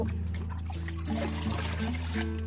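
Thin liquid fertilizer is scooped out with a large mug and poured for eggplant plants, giving a soft, continuous trickle and slosh of water heard up close at low volume.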